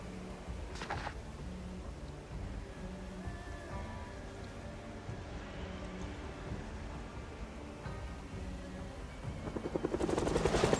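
A helicopter in the video game Project Zomboid flies overhead as a steady, droning rotor rumble with broad noise that holds throughout and swells louder in the final seconds.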